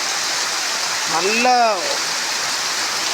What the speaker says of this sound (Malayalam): ഒന്ന് കുറയുന്നുമില്ല, കൂടുന്നുമില്ല, ഒരേ ശക്തിയിൽ തന്നെ മഴ പെയ്തുകൊണ്ടിരിക്കുന്നു